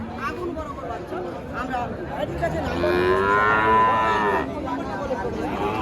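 A young bull calf moos once in a long, loud drawn-out call at a cattle market, with people chattering nearby before and around it.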